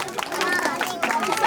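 A crowd at a Nepali street-awareness drama claps in a steady, dense patter of many hands, broad and fairly loud, with murmuring voices mixed underneath.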